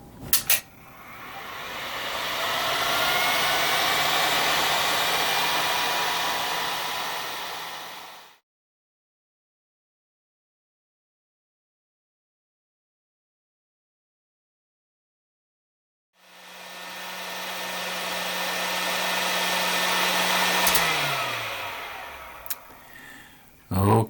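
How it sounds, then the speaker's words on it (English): A heat gun set to 160 degrees Fahrenheit blows hot air on a model ship: a steady broadband whoosh for about eight seconds, a gap of silence, then the blower starts again with a low hum that drops in pitch near the end. "Okay, now with the heat gun."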